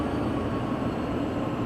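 Heavy freight locomotive idling on Sherman Hill in the video game Train Sim World 2: a steady, dense low diesel rumble, loud and unbroken throughout the brief moment.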